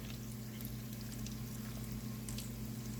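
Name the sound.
chicken thighs frying in a pan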